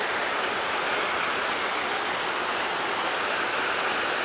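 Creek water beside an old tub mill site rushes in a dense, continuous hiss, loud and close, with no break in the flow and no voices over it.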